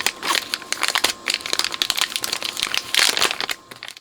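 Crinkling tape packaging being pulled open on a pack of new output transistors during repair of a Yamaha professional power amplifier, a close, busy run of dense crackles and crunches with no talk.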